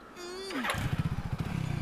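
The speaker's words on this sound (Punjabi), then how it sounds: "ਮੋਟਰਸਾਈਕਲ ਨੂੰ ਕਿੱਕ ਮਾਰਨ ਨੂੰ ਕਿਹਾ ਸੀ।" A motorcycle engine is kicked into life and settles into a fast, close, pulsing idle, with a brief voice-like tone just before it fires.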